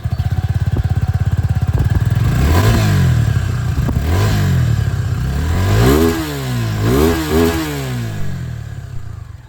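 A 2024 Suzuki Gixxer 250 motorcycle engine starts and settles into a steady close idle, then is blipped through several rising and falling revs before easing back, loud and alone.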